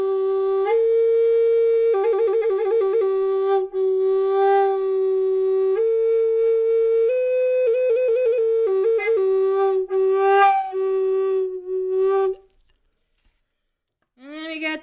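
A Native American style flute in G, tuned to 432 Hz, plays a sustained, breathy melody of held notes with trills and ornamented runs, then stops, followed by a brief sound at the end.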